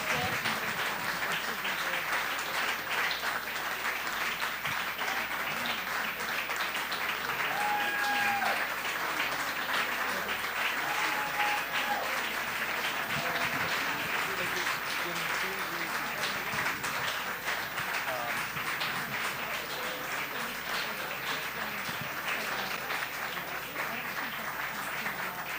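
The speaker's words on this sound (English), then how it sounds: "Again, a round of applause for these terrific folks." An audience at a chef competition event in a restaurant applauds in a long, dense, steady wash of clapping that stays loud and even throughout, with no pauses and some faint voices beneath.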